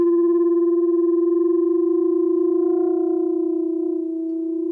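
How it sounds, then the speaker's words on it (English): Two sounding pipes, each fitted with a piece of wire screen, are excited together, giving a steady pure hum with a slow beating swell that fades slightly toward the end, alone and clear. "if they have different natural frequencies and I excite them together, we should have this mechanism called beats"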